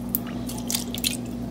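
A splash of Kahlua liqueur goes into a crock pot of pork for sliders, giving a few short, soft wet drips and squishes over a steady low hum.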